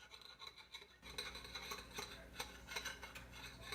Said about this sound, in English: Mix and mix and mix.